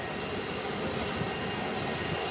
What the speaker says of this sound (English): I love to hear the engine of the G5s and how quick they gain altitude.